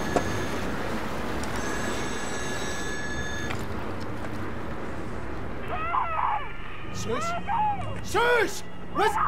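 A telephone rings with a steady electronic bell inside the offshore oil rig setting of the video game Still Wakes the Deep, heard over constant rumbling ambience, followed by short whooping tonal cries and people talking.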